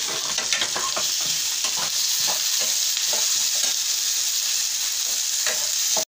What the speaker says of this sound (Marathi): नंतर आपण टमाटे टाकले, टमाटे सुद्धा चांगले फ्राय होऊ द्यायचे।